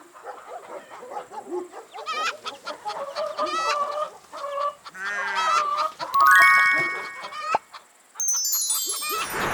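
Farm chicken clucking in a children's animal-learning setting, a run of short clucks and calls mixed with other cartoon farm sounds and a jingle, fairly close and clear.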